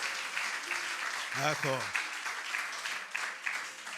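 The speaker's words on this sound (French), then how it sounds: "On va applaudir toutes ces personnes-là." Applause from an audience in a festively decorated hall during a music audition, a steady wash of clapping throughout with a brief spoken word near the middle.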